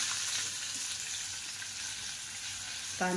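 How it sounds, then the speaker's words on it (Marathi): Mustard seeds, curry leaves and onion frying in a pan with crisp peanuts, a soft continuous sizzle heard close, with a brief clink at the end. "त्याच्यानंतर मग मोहरी टाकायची आणि कढीपत्ता, नंतर मग कांदा"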